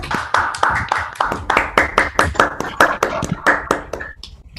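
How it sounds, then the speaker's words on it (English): A workshop audience at a plenary session breaks into applause, a dense run of close, sharp hand claps that goes on for several seconds before thinning out. "Let's everyone give Luis a good round of applause."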